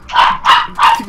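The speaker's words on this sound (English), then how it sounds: "Your dog is going nuts." A dog barks three times in quick, even succession, loud and close, with sharp yapping barks and no talk over them.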